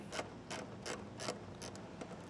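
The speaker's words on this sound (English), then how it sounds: "And I have a long extension on a 7mm socket." A ratchet wrench with a long extension and 7mm socket turning out screws while setting up a Blue Ox base plate kit on a 2024 Chevrolet Silverado 1500, giving a steady series of about seven sharp, close clicks.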